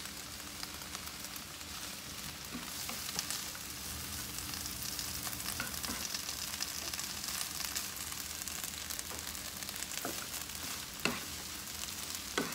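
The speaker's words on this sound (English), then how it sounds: "I just don't like for my onions to overcook. So I just keep stirring in it." Onions frying in a pan, a continuous even sizzle like rain with occasional soft scrapes and taps of the stirring utensil, moderately quiet and close.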